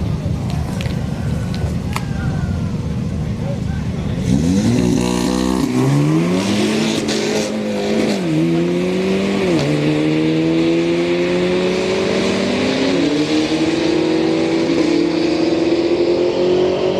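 Drag-race cars, including an Audi S3 daily driver, launch and accelerate hard at a street night at Orlando Speed World, engines revving up through rising gear changes, loud and close, with an announcer talking over the roar.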